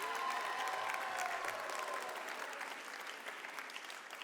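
A convocation audience gives a professor and choir another round of applause, a dense, steady wash of clapping that gradually thins and softens over a few seconds, with no talking.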